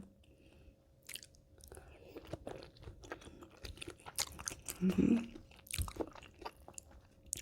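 Someone eats a spicy Thai salmon salad with fermented pork sausage up close, with soft crunches, wet squishy chewing and biting that swell in the middle, all without speech.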